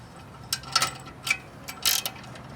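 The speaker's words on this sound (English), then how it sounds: "So I'm just kind of holding the ratcheting part of it." The ratchet on a tie-down strap clicks in short bursts while a motocross bike is strapped onto an MX bike hauler. Several quick, close metallic ratchet rasps are separated by brief pauses, with no voices.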